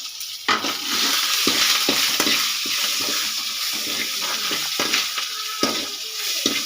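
Curry leaves, pinched dried red chilies and coriander leaves sizzle in hot oil as tempering for a coconut-ground sambar, a steady loud frying hiss broken by occasional clinks and stirring knocks.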